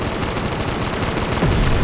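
Sustained AK rifle fire in a first-person shooter game, a dense rapid stream of loud shots with no pauses, close and continuous.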